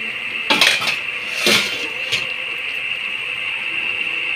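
A metal lid clattering onto a cooking pot of simmering kangkong and okra, two or three sharp clanks close by with a faint scrape, followed by the steady hiss of the pot.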